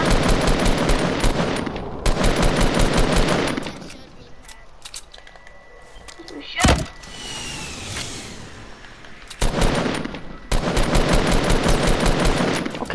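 Rapid bursts of automatic gunfire from a PlayStation 4 shooter game, loud dense volleys at the start and end with a quieter gap, one sharp single shot in the middle, and faint talk underneath.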